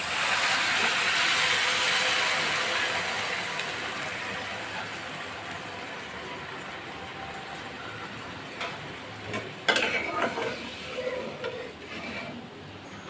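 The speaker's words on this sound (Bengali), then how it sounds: "এখন আমি পরিমাণ মতো পানি দিয়ে দেব।" Water hits fried masoor dal in a hot pan with a loud, steam-like hiss that slowly fades over several seconds, followed by a few clattering knocks of utensils near the end.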